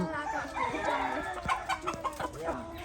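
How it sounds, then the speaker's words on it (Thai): Pheasants and other fowl call at a school survival camp, a busy mix of clucking and bird calls mingled with people talking nearby. "ไก่ฟ้าพญารอ ไก่ฟ้าพญารอนะครับ"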